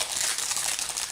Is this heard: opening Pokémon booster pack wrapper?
yes